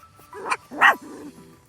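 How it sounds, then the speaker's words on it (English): A puppy gives a couple of sharp, high yips followed by a softer whimpering trail, close and clear with no voices over it. "Yeah, you're barking."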